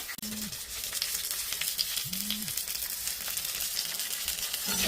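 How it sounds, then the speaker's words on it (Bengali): A fish head fries in hot oil in a kadai, giving a steady close sizzle with faint crackles throughout and a couple of brief low tonal hums underneath, with no voices. "দেখো মুড়োটা আমার ভাজা হয়ে গেছে"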